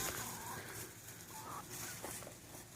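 Hens clucking inside a chicken coop, faint and somewhat distant, with a few soft scattered clucks over a steady background hiss.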